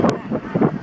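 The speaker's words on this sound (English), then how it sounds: "I don't know if you can really hear me, it's windy out here." Gusty wind buffets a microphone outdoors at an airshow, a brief low rumbling burst lasting under a second, with a voice faintly mixed in.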